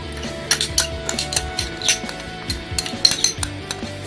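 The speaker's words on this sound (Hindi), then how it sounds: "इसको ज़रा सा यूँ योगर्ट को थोड़ा सा मिलाना है ताकि इसके अंदर जो लम्स पड़े हैं वो टूट जाएँ" Spoon stirring a bowl of spiced yogurt to break up lumps, with repeated light clinks and scrapes against the dish over a faint steady background.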